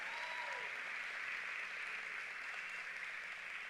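At a women's congress, an audience welcomes a guest with applause, a dense, steady wash of clapping that runs faintly from start to finish with no voices over it.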